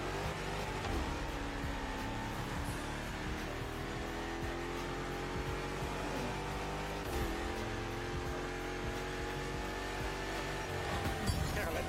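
A race car in The Crew Motorfest accelerates out of a tunnel, its engine note climbing in a steady rev while a second engine drones along beside it, with a voice speaking under the sound.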